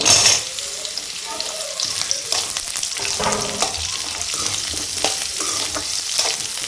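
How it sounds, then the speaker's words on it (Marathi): Chopped onion added to a pan of garlic and ginger frying in oil, sizzling loudly and steadily up close while being stirred, with scraping and clattering mixed into the hiss. "लसूण आणि अद्रक व्यवस्थित फ्राय झाल्यानंतर आपण त्यामध्ये आता कांदा टाकून घेऊया."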